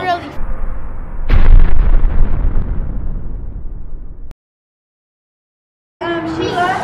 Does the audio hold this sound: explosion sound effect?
yes